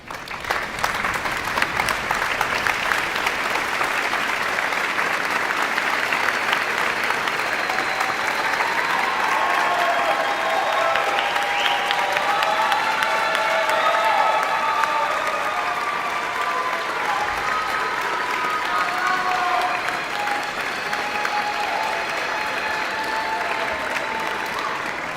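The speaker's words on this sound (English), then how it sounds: "join me in applauding those who helped you earn your degree." Sustained applause from a large crowd at a university music commencement ceremony, steady and loud throughout with a dense wash of clapping, some cheering and faint voices mixed in.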